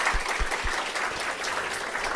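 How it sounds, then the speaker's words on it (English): A crowd claps steadily in a room, dense applause throughout with no talking. "So please give him a big round of applause, please."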